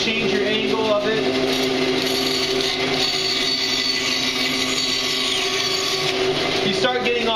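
A bandsaw runs steadily with a constant motor whine and blade hum throughout, a continuous loud mechanical drone, with a person talking over it near the start and end during a safety demonstration.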